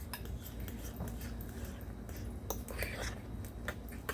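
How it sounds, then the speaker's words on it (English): Flour being mixed into a potato cake mixture in a bowl: soft scraping and clinking of a utensil against the dish in quick irregular strokes, faint and close. "we're going to take some flour and mix that in there"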